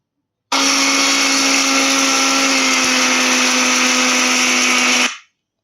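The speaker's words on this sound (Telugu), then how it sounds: "సో ఎండుమిరపకాయలని మిక్సీ జార్లో యాడ్ చేసి ఇక్కడైతే మిక్సీ పడుతున్నాము." A kitchen mixer grinder whirs loudly and steadily as it grinds fried dried red chillies in its jar, starting abruptly, running about four and a half seconds, then winding down to silence.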